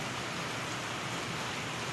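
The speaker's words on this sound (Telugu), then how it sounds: "కొత్తగూడెంలో ఫుల్ వాన కొడుతుంది." Heavy rain pours down in Kothagudem as a dense, even hiss of falling water, steady and unbroken, with no voices.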